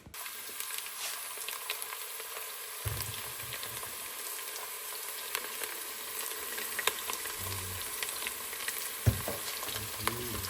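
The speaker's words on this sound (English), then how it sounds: "I just put salt. I'm browning my onions." Onions browning with salt in hot oil, a steady close sizzle and crackle with occasional stirring clatter and low thumps, and no talking.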